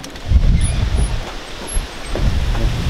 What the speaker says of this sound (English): look at how windy it is. You won't be able to hear me.